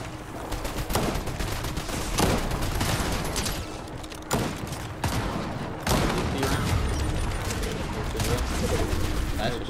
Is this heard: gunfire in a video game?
yes